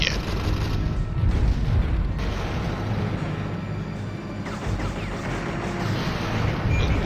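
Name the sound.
cannon shot and explosion in video game Ring of Red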